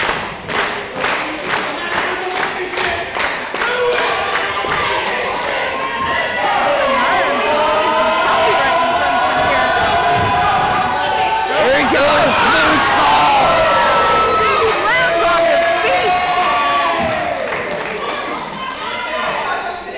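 Wrestling crowd in an arena roars and chants continuously during a Fatal 4-Way middleweight championship match, loud and sustained with rhythmic clapping or stomping early on and swelling cheers midway, a commentator's voice running over it.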